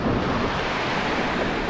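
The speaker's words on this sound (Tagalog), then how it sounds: "ganitong maalon." Rough sea waves churn and wash continuously close by, a loud roaring surf mixed with buffeting wind noise on the microphone.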